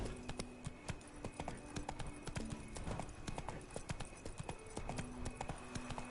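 Galloping horse hooves in the Witcher 3 video game, a steady fast clip-clop of four-beat strikes running throughout with no talk over it.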